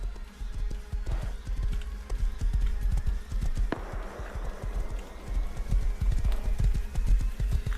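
Horse hooves clip-clopping in the survival game Rust, a steady galloping rhythm of loud close hoof thuds on the ground throughout, with faint background noise.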